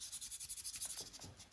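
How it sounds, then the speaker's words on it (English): Steady, rhythmic rubbing strokes of sandpaper smoothing a wood carving of a king eider drake head, close and fairly quiet, repeating evenly for a second and a half with no talk. "we need to have everything sanded well and smooth"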